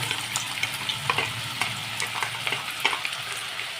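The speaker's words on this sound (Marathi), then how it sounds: "तेलात आता आपण कांदा घालूया." Onion frying in hot oil in a kadhai, a steady close sizzle with scattered crackles and scraping stirs, no voices.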